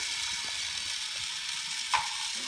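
Faint, quick ratcheting clicks from a child unscrewing parts of a toy tractor, close but quiet over a steady background hiss, with a slightly louder click near the end.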